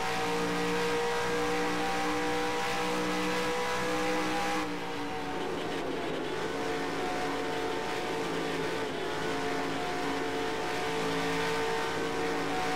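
Race car engine in NASCAR Racing 2003 video game, a sustained high revving drone with steady tonal harmonics, briefly shifting pitch midway as the throttle changes, running continuously.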